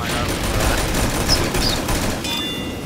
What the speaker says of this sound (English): I keep getting mowed down by fucking SMGs